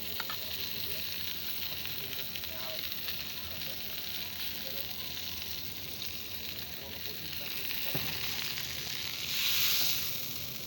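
Eggplant slices fry in oil with a continuous, fairly quiet hiss and sizzle, a few faint clinks from utensils, and the sizzle swelling briefly near the end.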